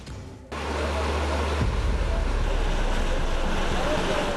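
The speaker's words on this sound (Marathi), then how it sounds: "इंद्रायणी नदी अद्यापही दुथडी भरून वाहतीये" The flooded Indrayani river at Alandi runs high, a loud, continuous rushing roar of water with wind buffeting, beginning abruptly after a short quieter opening.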